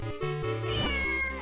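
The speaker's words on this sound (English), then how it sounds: "Aw, kitty." A cat meows in the Zelda: The Minish Cap video game, a couple of clear, close tonal mews rising and falling over soft game music, with no talking.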